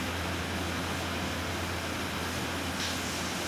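Steady broadband whoosh of an OA electric circulator fan running close by, constant and even with no other sounds.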